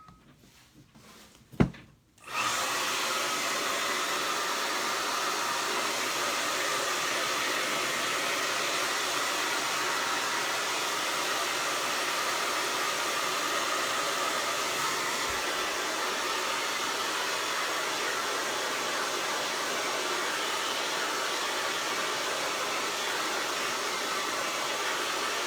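A hair dryer dries red paint on a Dollar Tree craft heart, switching on after a short clatter and then blowing as a steady, loud, unbroken roar that continues alone to the end.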